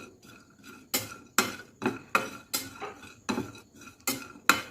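Raisins being fried and stirred in a pan while making karanji, with a metal spoon scraping and clinking against the pan in a steady series of about nine sharp, close strokes.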